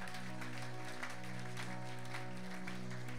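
A church congregation applauds and acclaims the Lord, continuous dense clapping with cheering voices over a sustained low musical hum, loud and enveloping throughout.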